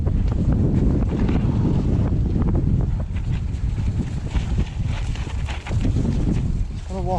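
Strong gusting wind buffets the microphone of a cyclist riding on an exposed, rutted track, loud and constant throughout, a rough low roar with a voice speaking faintly beneath it.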